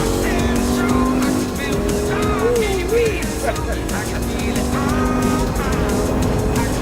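A Lamborghini Gallardo LP 570-4 Superleggera accelerates on the Las Vegas racetrack, its engine note rising steadily and loud over continuous road and wind noise, with someone talking over it.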